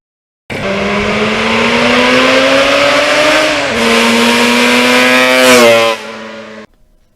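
A 1977 Yamaha RD400 two-stroke motorcycle accelerates hard through the gears, its buzzing engine note climbing in pitch, dropping at a shift, then climbing again before cutting off, loud and close with no talking.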